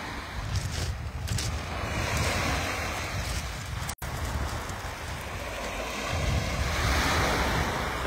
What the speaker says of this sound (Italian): È proprio il mare quello che dista 8 metri da noi e ci avviciniamo.